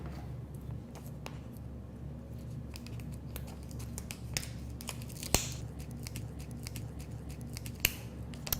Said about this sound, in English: I'm actually going to cut a little piece off here.